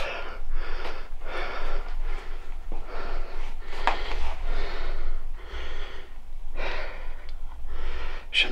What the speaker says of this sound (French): je suis désolé si vous m'entendez un petit peu respirer